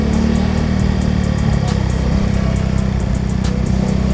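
Motorcycle and car engines idle and rumble in congested traffic in Kuta, Bali, a loud, constant low drone from nearby vehicles with no clear breaks and no talking.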